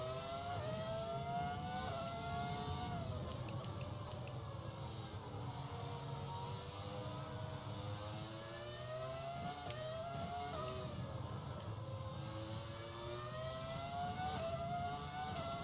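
F1 race car engines in the F1 2020 video game whine continuously at high revs, pitch sweeping up and down with gear shifts and braking, loud and steady with no talk over them.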